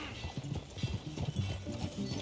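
Horse hooves from Red Dead Redemption 2 clip-clop at a steady walking gait, close and fairly soft, over low ambient rumble with no talk.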